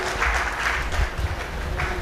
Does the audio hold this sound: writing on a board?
no